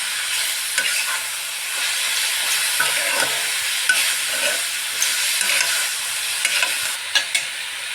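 Patishapta pitha batter frying in a pan gives a steady, close hissing sizzle, broken by occasional soft clicks and scrapes as it is spread and stirred.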